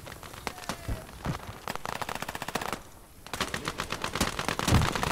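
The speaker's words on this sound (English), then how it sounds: "I love the sound of the gun as well on BT." Tank guns and machine-gun fire in the World War II strategy game Gates of Hell rattle in rapid, dense bursts, with a short pause midway before the volleys resume, loud and without talk.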